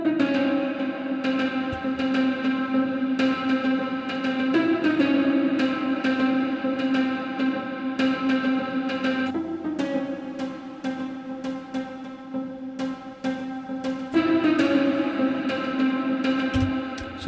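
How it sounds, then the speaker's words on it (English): Pizzicato cello from a Logic preset, lightly distorted through a bus, plucks a repeating rhythmic pattern of short notes over a sustained low tone, steady and upfront with no voices. "So that's a spizzicato cello, and it has a slight bit of distortion on it through a bus"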